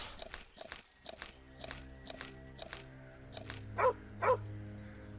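In the video game Nightmares from the Deep 3, a dog gives two short, sharp barks near the end, after a series of evenly spaced footsteps and over a soft ambient music bed.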